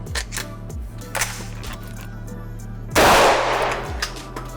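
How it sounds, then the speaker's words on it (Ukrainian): One sharp, loud airsoft gunshot cracks after a few seconds of quiet clicks and handling noise, its echo trailing off over a low hum. "І також один постріл."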